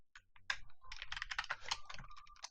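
Someone types code on a computer keyboard, a close, quick patter of key clicks with short pauses between bursts.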